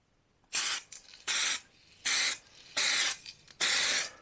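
Spray gun laying a light dust coat of paint over primer on a Jaguar XJ6 body, five short hissing bursts of even length separated by brief pauses, close and clear with no talk.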